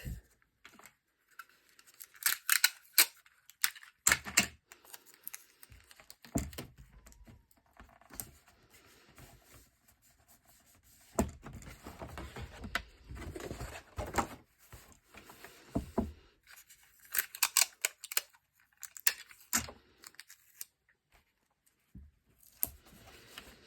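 Tape is cut and pressed onto a vintage letter box base at close range, giving scattered snips, tearing and rubbing sounds in irregular clusters, fairly quiet, with no talking.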